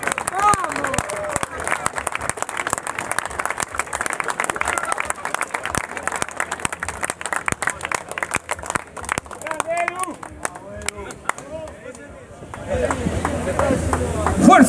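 An audience claps and cheers through most of the stretch at an outdoor rock tribute concert in Parque Avellaneda, the applause loud, dense and sustained, then dipping before swelling again near the end.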